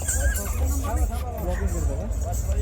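Horse neighing and stepping at the Malegaon fair horse show in southern India, a dancing mare's whinnies and hoof clops sounding continuously and fairly loud amid steady crowd babble and low rumble.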